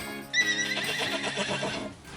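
A horse whinnies loudly and close by during hoof cleaning, a bright neigh rising and wavering for about two seconds with no talk over it.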